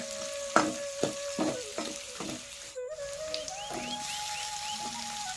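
Finely chopped onions fry in a pan with a steady sizzle, punctuated by several sharp clicks and scrapes from stirring in the first few seconds.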